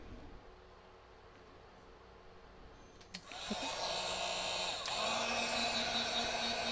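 A handheld heat tool kicks on midway while drying ink on a DIY photo frame, then blows as a steady, fairly close airy whoosh that grows slightly louder.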